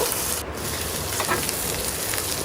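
Onions, garlic and green chilies fry in a pan with a continuous, even sizzle close by, carrying a dense crackling hiss that holds steady throughout with no talking.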